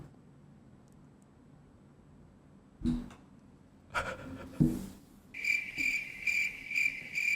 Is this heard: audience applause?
no